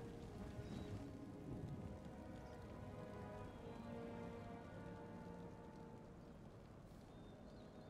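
Rain falling during a battle in the video game Empire: Total War, a steady faint hiss of drops with low rumbling underneath that continues evenly from start to finish.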